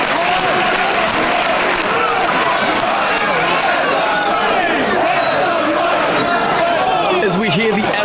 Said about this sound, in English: As we hear the adulation from the crowd there